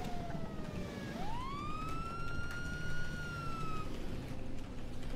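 An ambulance siren in GTA 5 rises into a steady wail and holds loud and close for several seconds, with no talking over it.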